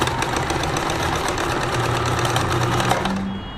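Necchi 525FA sewing machine running a straight stitch, a steady rapid mechanical whir and needle clatter held at constant speed throughout, close and loud, then cutting off at the end.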